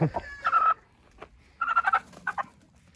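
Chickens and roosters in a village coop cluck and squawk in short bursts, fairly close, with a rooster call among them and quiet gaps between.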